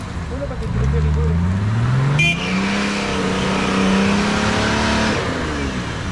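An off-road Toyota Land Cruiser 61 engine revs up on a climb, its pitch rising then holding loud for several seconds while voices talk over the strain.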